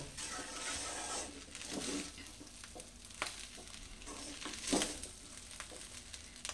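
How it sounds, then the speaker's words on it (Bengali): A spoon gently folds ghee through white pulao rice in a pot, soft scraping and stirring strokes over a faint low sizzle, with a few sharper clinks and scrapes spaced irregularly throughout, quiet and close, no voices. "এবার আমি খুব আলতো হাতে একটু ঘিটাকে মিশিয়ে নেব"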